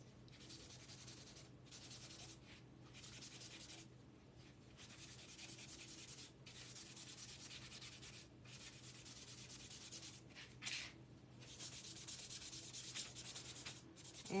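Wax rubbed by hand onto a Halloween decor gravestone makes a soft, steady scrubbing and rubbing sound, faint and continuous with brief pauses between strokes.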